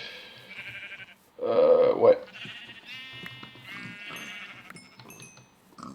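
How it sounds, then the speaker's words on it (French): Sheep bleating in the video game Minecraft, one loud bleat near the middle with fainter bleats around it, while someone talks in French over the scene. "Là, ici, il y a pas mal de moutons."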